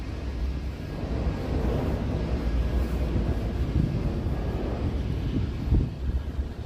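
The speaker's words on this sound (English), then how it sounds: "it's very windy." Strong wind on a city street in Toronto buffets the microphone in a continuous low rumble and roar, with gusts swelling throughout and no voices.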